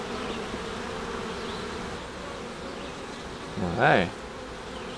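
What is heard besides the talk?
virgin honeybee queen piping in a hive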